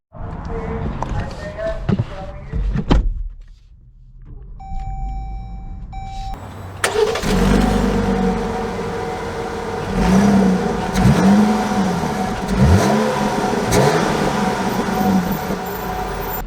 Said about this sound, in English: So, setting off in the Grand Cherokee Laredo,